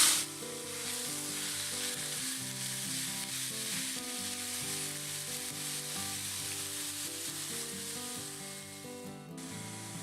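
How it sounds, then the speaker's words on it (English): Venison sizzles and fries loudly in a hot skillet, a steady bright crackling hiss with soft stirring, close up and without talk. "And the flavor is in the sizzle."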